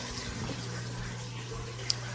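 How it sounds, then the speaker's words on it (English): Cold tap water running over a cooked egg in a kitchen sink, a steady, fairly quiet stream with no talk. "we're now soaking it in cold water directly on the egg"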